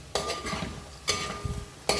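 Peanuts being stirred while dry-roasting in a pan over a low flame, giving three sharp scraping, rattling strokes spaced about a second apart, close and fairly quiet.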